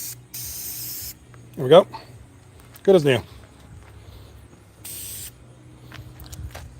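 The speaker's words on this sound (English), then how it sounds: "spray painting it doesn't really do much" Short bursts of a spray paint can hiss over a Halloween decoration being touched up, clearly audible between spoken remarks nearby.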